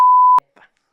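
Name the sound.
censor bleep added in editing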